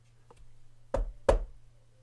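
Three knocks on a house door, one soft tap and then two firm, distinct raps about a third of a second apart, close and clear against a quiet low hum.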